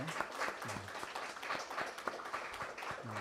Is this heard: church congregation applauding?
yes